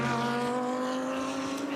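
Race cars at the Bathurst 12 Hour endurance race run with a steady, loud engine drone under a sustained high tone, continuous for the whole moment.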